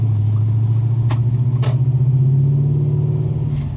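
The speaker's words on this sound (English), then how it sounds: "the exhaust isn't quite as subtle as I first thought it might have been" An Audi S5's exhaust drones with a steady low burble while driving, close and loud, rising slightly then easing off.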